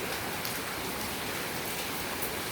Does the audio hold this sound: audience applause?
no